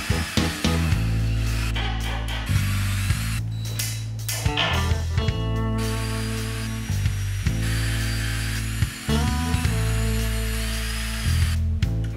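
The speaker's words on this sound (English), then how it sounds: "I'm just going to screw these screws in so that it stops the metal retainer" Cordless drill driving screws into the metal retainer of an overhead clothes airer, several loud whirring bursts of varying pitch with brief pauses between them, close by and with no talking.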